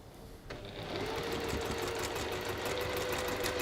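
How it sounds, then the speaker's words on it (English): A sewing machine runs steadily, stitching fabric for a large triangle-shaped sewing project, starting after a brief quiet moment and then keeping up a continuous, close, fairly loud mechanical hum. "And that's sewn onto the side like that."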